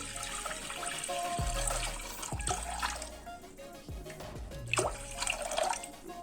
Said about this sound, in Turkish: Üzerine geçecek kadar su ekliyorum